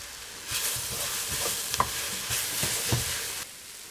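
Chopped onions for a seafood stock hit a hot pot with a broad, steady sizzle, broken by a few sharp scraping stirs; close and moderately loud, with no voices.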